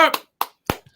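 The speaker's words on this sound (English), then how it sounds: "Clap it up." A few sharp hand claps ring out in sparse succession during a live broadcast, the first one just after a short burst of voice.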